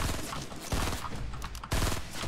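Gunfire in the Fortnite video game, with a dense burst-rifle fusillade of loud, rapid shots in several close bursts that nearly fill the whole stretch.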